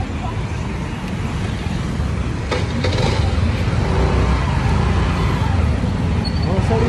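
Road traffic heard from a car driving along a busy street in India, a continuous loud rumble and roadway roar with a few brief clatters, while people talk nearby.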